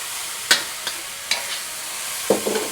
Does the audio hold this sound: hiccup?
no